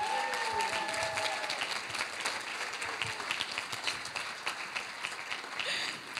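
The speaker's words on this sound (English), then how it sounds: "please give a big round of applause" Applause from the audience at a civil society conference, a continuous wash of many hands clapping at an even level across the room, with faint voices underneath.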